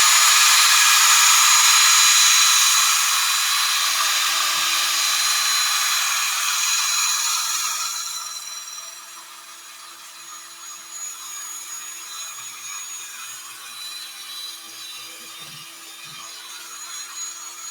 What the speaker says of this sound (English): And then I'm going to come along and I'm just going to sand it.